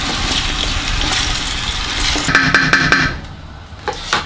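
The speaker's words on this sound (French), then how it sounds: "Maintenant je vais ajouter mon mélange carottes et oignons." A carrot and onion mix hits garlic browning in hot olive oil, giving a steady loud sizzle with a few pan clatters near the end.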